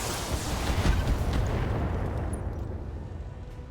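Battletech mechs unloading a full weapons salvo in a video game: a rumbling cluster of overlapping explosive booms that swells early, then fades into a decaying roar.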